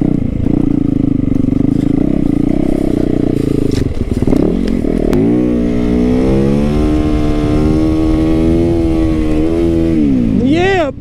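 A motorcycle fitted with an aftermarket exhaust idles loudly, then revs up and down in rising and falling sweeps, with a deep, throaty exhaust note close by.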